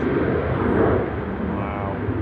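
A jet airliner climbing out from Manchester Airport in gusty wind, a steady broad engine roar with wind buffeting, fairly close and loud throughout, with a faint voice murmuring underneath.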